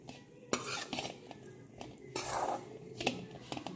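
Roasted masala for a Goan mushroom xacuti being mixed with garam masala powder in a pan, close spoon clinks and scrapes against the metal with a low sizzle underneath, irregular strokes throughout, no talking.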